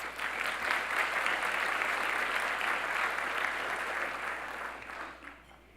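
Audience applause at a 2018 SAMCEDA event for business sponsors, a steady, dense wash of many hands clapping that holds evenly and then tapers off near the end.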